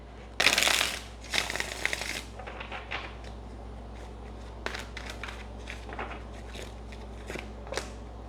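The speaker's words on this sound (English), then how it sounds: "We get one shuffle." Tarot cards are shuffled in a quick riffling burst up close, followed by softer taps, card slides and handling noises as the deck is laid out.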